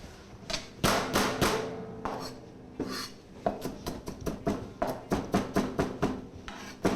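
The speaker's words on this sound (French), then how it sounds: "On va hacher de l'ail" Garlic cloves chopped finely with a knife on a cutting board, a quick run of sharp, close taps in uneven bursts, speeding into a rapid rhythmic series toward the end, with no talking.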